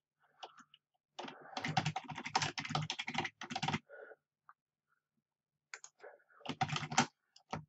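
Someone types an email on a computer keyboard in Gmail, with dense bursts of quick key clicks separated by quiet pauses, close and clear.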